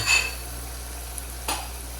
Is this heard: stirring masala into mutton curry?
yes